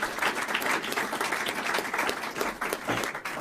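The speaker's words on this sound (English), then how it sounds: "give them a big round of applause" A crowd at a Florida press conference with Governor Ron DeSantis breaks into steady applause, a dense wash of many hands clapping at even loudness throughout, with no one speaking over it.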